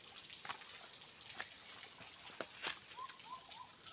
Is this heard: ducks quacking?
no